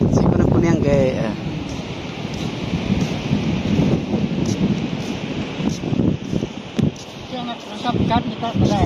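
A heavy thunderstorm with rain pours down in a dense, steady roar with gusty wind buffeting the microphone, while people talk loudly throughout over the storm.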